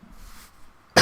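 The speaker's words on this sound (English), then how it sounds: "Just clearing my throat a bit" A single short, loud throat clearing close to the microphone comes at the very end, after a stretch of quiet room hiss.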